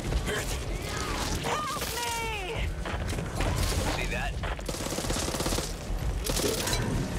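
Pistol and other gunfire in Back 4 Blood during a fight behind a bar, dense bursts of shots and mechanical clatter under excited player voices.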